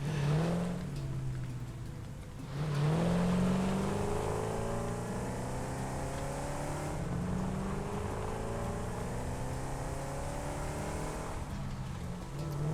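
A buggy engine drones steadily while being driven in the video game Satisfactory, its motor revving up and down in repeated rising sweeps, loud and close, with no talking.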